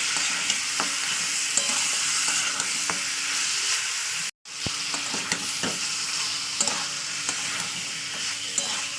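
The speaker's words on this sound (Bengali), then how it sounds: "এবার আমি একটু কষিয়ে নেবো মজার সঙ্গে মাংসগুলো ভালো কষিয়ে নেবো" Meat and bottle gourd are stir-fried in a pan, a constant close sizzle broken by regular scraping and clicking of a spatula, with one brief cut to silence midway.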